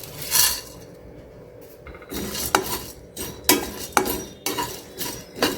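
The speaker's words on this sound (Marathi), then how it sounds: "ते सर्व मसाले ना थोडेसे हलके असे भाजून घ्यायचे," Whole spices for homemade tea masala, including nutmeg and dry ginger, dry-roasted in a hot pan, stirred with a spoon that scrapes and clinks against the metal in irregular strokes, close and moderately loud, with no talking.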